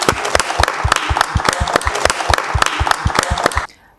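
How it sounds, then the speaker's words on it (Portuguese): Audience applause at a talk, a rapid stream of sharp claps that sounds like one or a few people clapping up close rather than a large crowd, ending abruptly after several seconds. "Palmas para vocês."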